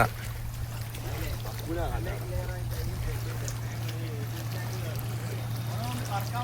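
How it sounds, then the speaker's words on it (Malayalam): A boat passes on the water near Chelappuram. Its engine gives a low, constant drone that runs through the whole clip beneath people talking. "ഇതാ പോകുന്ന ബോട്ട്"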